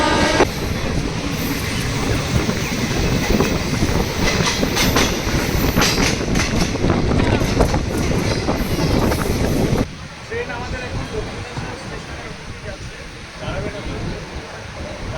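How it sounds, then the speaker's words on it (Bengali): A Kolkata to Digha special train passing through Dum Dum station, heard from on board as a loud, continuous rumble with rhythmic wheel clatter that drops to a quieter level partway through. "আমরা এখন দমদম স্টেশন পার করছি"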